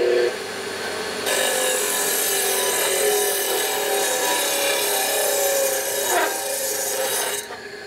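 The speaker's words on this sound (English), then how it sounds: "so I'm gonna grind it. I'm grind it a little bit by hand." Hand grinding on a part of a 1965 Harley panhead 74ci FLH motor gives a continuous harsh rasping scrape, loud and close, holding for several seconds and then stopping abruptly near the end, with no talk.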